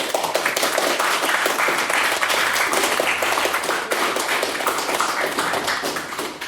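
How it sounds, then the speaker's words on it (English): Audience applause at a formal debate, a loud, dense, continuous burst of many hands clapping that holds steady throughout with no talking over it. "can we all please give a very, very warm round of applause for Mr. Michael McConway?"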